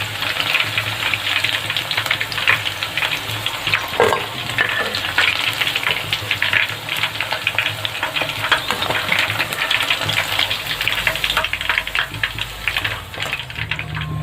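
Chicken pakoras for chilli chicken fry in hot oil, giving a steady, close crackling sizzle with scattered pops that runs continuously and alone throughout.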